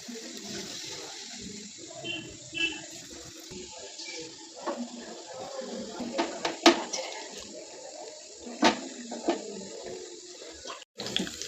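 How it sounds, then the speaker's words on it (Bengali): Jackfruit fritters (bora) fry one by one in hot oil, giving a soft, continuous sizzle with scattered sharper pops and crackles. The sound is fairly quiet and close, with no one talking. "এখন এক এক করে আমরা বড়াগুলোকে ভেজে নেব।"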